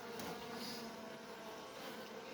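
Wild honeybees buzzing in a hive inside an abandoned house, a steady faint continuous drone with no talk.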